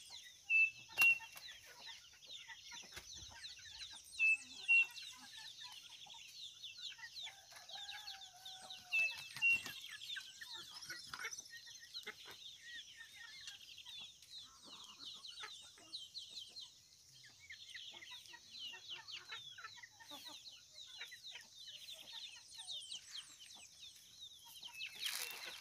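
Chickens cluck and chatter steadily as they are let out of a henhouse at a rural smallholding, a dense flock of overlapping calls with a few louder squawks near the start and a constant insect-like whine behind them.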